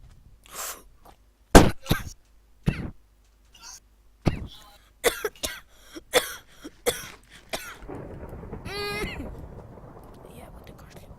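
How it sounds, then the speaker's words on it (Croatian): Several sharp coughs burst out one after another at an irregular pace, loud and close, with a rough, noisy stretch of sound following near the end. "Jebote kašlje."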